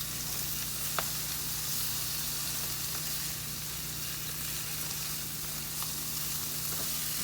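Shrimp and spinach fry on a Blackstone griddle with a loud, continuous sizzle. Faint utensil clicks occasionally cut through, and no one speaks.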